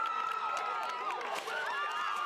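A big crowd at the first football game of the year, heard as a wash of distant cheering and shouting with a few whistle-like tones rising and falling over the steady crowd noise.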